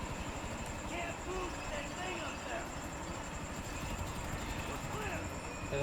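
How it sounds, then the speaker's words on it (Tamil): A helicopter in GTA V whirs with a steady low rotor drone throughout, layered with other game noise under ongoing talk. "Helicopter over there."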